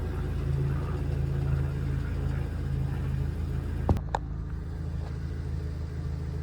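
A Suzuki Swift Sport ZC31S idling with an odd fault, a steady low engine rumble and hum, close by, with a brief clunk partway through and the tone shifting slightly afterward.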